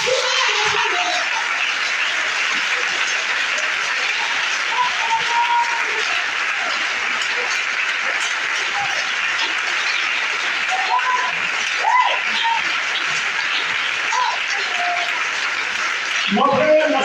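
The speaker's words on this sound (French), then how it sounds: "Acclame celui-là." Church congregation during a Sunday sermon applauding in a sustained, dense wash of clapping that stays steady throughout, with voices shouting and speaking over it.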